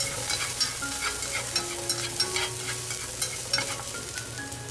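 Pizza toppings stir-fry in a pan, a steady sizzle broken by repeated scraping stirs of the utensil, close and clear with no talk.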